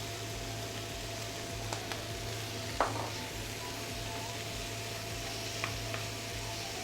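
Small diced carrot, tomato, zucchini and leeks sauté in a pan with a soft, steady sizzle, punctuated by a few faint clicks of stirring, with no talking.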